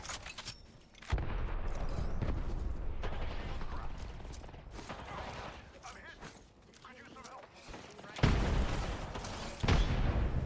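Grenade explosions in a ranked online shooter game, heavy booming bursts and rumbling gunfire-like blasts, with a couple of loud explosions near the end, while a player talks over the action.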